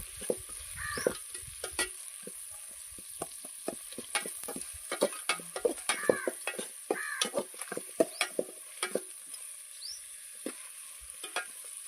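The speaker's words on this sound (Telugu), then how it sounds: "ఈ ఎర్రగడ్డ అనేది దోరగా వేయించుకోవాలి." Onions fry for egg biryani, cooking toward brown, with a soft continuous sizzle under frequent sharp scrapes and knocks of a spoon stirring the pan, and a few faint crow caws in the background.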